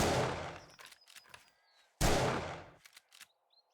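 Gunfire at a raider in the video game 7 Days To Die: two loud, sharp shot bursts about two seconds apart, each followed by a rattling decay and smaller clanks, close and dry.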